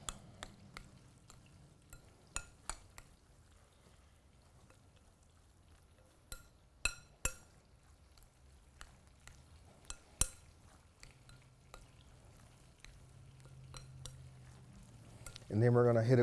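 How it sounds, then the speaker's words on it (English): Light sour cream being stirred into a dish, with a spoon clinking and scraping in scattered light taps and soft wet squelches, quiet and close, then a louder clatter at the end. "Stir that in."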